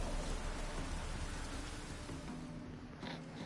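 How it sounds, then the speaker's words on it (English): Steady, heavy rainfall in a video game, a dense continuous hiss of rain on surfaces filling the whole stretch at even loudness, with no voices. "Looks like rain."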